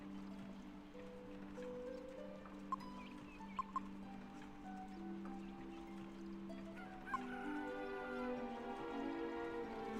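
A rooster crows faintly in Dragon Quest VIII. The drawn-out call sits quietly over a steady, tonal game background, with no talk.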